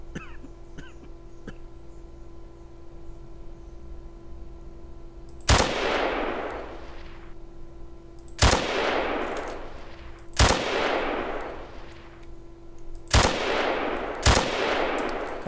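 In the survival game DayZ, several sharp gunshots crack out in an uneven series of about five, each followed by a long echoing decay over a quiet humming background.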